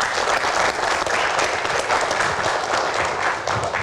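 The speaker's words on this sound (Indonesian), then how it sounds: "boleh tepuk tangannya" A live audience gives sustained, dense applause as the chairman of The Jakmania is welcomed onto a stage. The clapping is loud and even throughout, with no talk over it.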